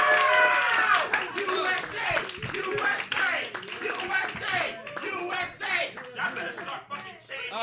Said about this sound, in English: So start clapping right now for your first performer